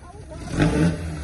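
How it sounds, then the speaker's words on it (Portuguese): A Chevrolet Chevette's engine roars loud and close, swelling in the middle of a short burst with clattery low rumble. "Ó o barulhão do Chevette, hein, vô?"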